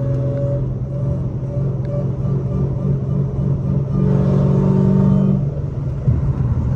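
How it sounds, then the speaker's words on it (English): A 900 hp Dodge Charger Hellcat cruising on a highway gives a loud, steady engine rumble with road noise, swelling briefly as it pulls harder midway through. "Green Goblin Wine would be so loud if this car wasn't so fucking loud."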